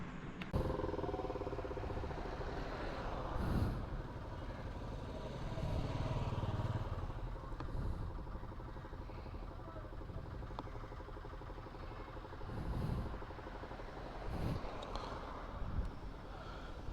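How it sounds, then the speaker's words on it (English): A 2022 Yezdi 42 Bobber motorcycle on a test ride, its engine droning steadily and close throughout, with wind rush and a few surges in revs, and no talking. "I'm taking a quick test ride of the new Yezdi Bobber"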